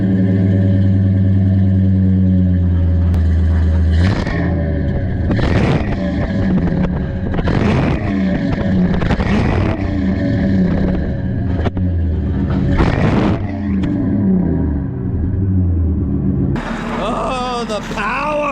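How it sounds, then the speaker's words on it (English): A Ford F250 Super Duty truck engine with the muffler removed revs repeatedly in loud, raw bursts over a rumbling idle, close by, with a voice heard briefly. "See what it sounds like without the muffler at all,"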